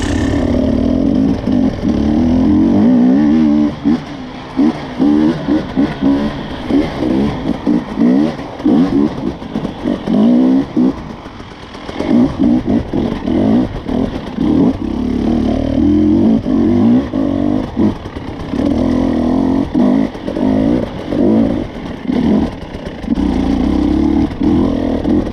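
A hard enduro motorcycle, ridden by a one-handed rider, revs and accelerates hard and close up, its engine note rising and falling in repeated bursts over about twenty-five seconds.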